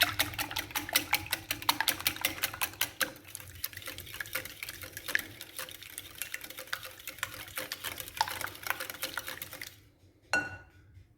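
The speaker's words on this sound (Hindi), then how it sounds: "इसमें अंडे डाल के बहुत अच्छी तरह से आप इसको मिक्स करेंगे" Eggs being whisked into brownie batter in a bowl, rapid rhythmic tapping strokes that keep going for several seconds, slow down, then stop with a final knock.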